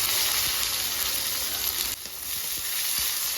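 Onions frying in ghee with cumin, cinnamon, cloves and whole black peppercorns give a steady, close sizzle, with a few soft ticks and pops and a brief dip in level midway.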